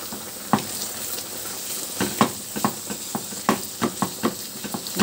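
Onion and minced meat frying in a pan, with a steady sizzle and a series of sharp crackles and pops from stirring or spattering, close and fairly loud throughout, no talking.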